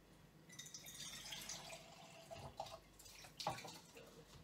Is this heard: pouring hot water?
yes